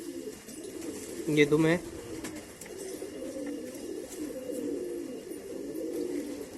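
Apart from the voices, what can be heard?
pigeons cooing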